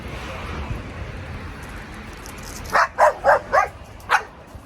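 Dog barking on a street in Italy, two males nearby: a quick run of four sharp barks and then a fifth, fairly close, after several seconds of quiet outdoor background.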